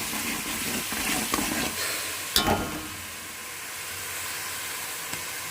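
Curry stirred and mixed in a sizzling frying pan, a continuous hissing fry with occasional utensil scrapes and one sharp clack, steady and close with no talk.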